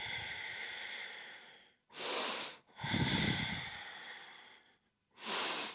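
Three forceful exhaled breaths during a pilates ab exercise, each a loud, airy burst separated by quieter breathing, close to the microphone with no talking.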